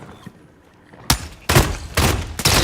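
A Glock 9 fitted with a switch fires fully automatic. After a quiet start come four loud, rapid bursts in close succession.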